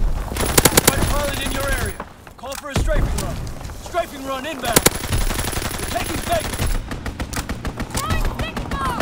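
Rapid anti-aircraft gunfire bursts in a Call of Duty: WWII match, loud staccato salvos repeating across the scene with brief pauses, mixed with other battle noise and voice callouts.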